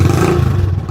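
A motorcycle with a loud modified silencer exhaust revs close by, making a heavy, booming low rumble that holds strong for about a second with no speech over it.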